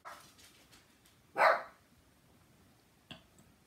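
A Shih Tzu named Stu gives a single short bark indoors, then a faint second yip a moment later, with quiet room noise between.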